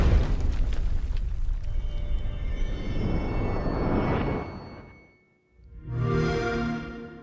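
Heavy booming impacts from a counterweight trebuchet siege in an Age of Empires game trailer, with a long rumbling roar, a brief drop to near silence, then another deep blast with debris.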